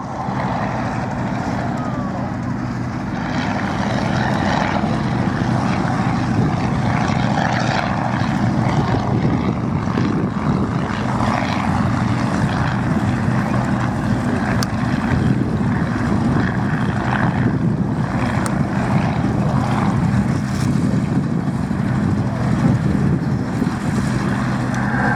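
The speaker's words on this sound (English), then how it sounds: "this one is the only airworthy example of the Anson that first went to war, the Mark I." A 1943 Avro Anson Mark I twin-engine propeller plane flies at an airshow. It makes a loud, sustained engine drone with propeller buzz that stays steady and near throughout, with no talk.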